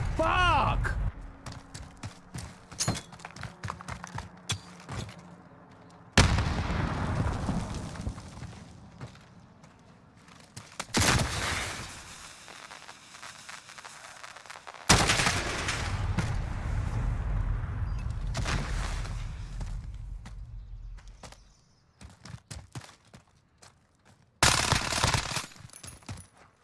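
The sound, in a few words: gunshots from a video game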